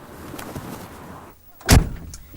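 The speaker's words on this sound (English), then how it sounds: "when I close the door" A cab door on a 1980 British Leyland lorry swings shut with a single loud, close thump, after a stretch of quiet interior room noise.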